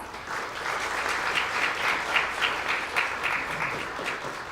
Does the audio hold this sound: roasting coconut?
no